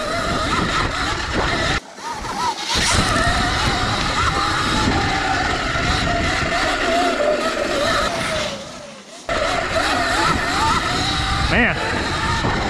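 A CZEM Drill One electric dirt bike rides off-road, its motor whining amid rough wind and terrain noise, with brief drops to near quiet around a couple of moments.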